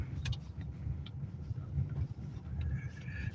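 A car drives along a road in Alaska, heard from inside as a steady low rumble with faint rattles and clicks on top. It stays continuous throughout, with no talk.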